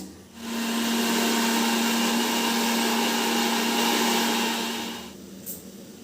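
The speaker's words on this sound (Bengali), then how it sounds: "আমি এই যে এখানে মিক্সির ভিতরেই পেস্ট করে নেব ডালটা" An electric mixer grinds lentils and green chillies into paste, a steady loud whirring drone for about five seconds that starts and stops abruptly, with no talk.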